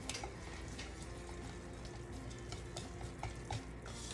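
Cornbread batter being whisked for a Southern cornbread recipe, a steady soft stirring and scraping texture with faint clicks against the bowl, continuous and fairly quiet over a low background hum, with no talking.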